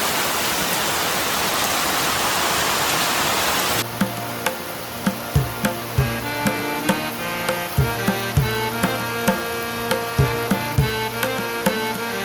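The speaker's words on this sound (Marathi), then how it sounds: "पाऊस" Heavy monsoon rain in the Konkan countryside near Ratnagiri pours as a dense, even hiss, then gives way to closer rhythmic tapping and knocking with rain still falling behind.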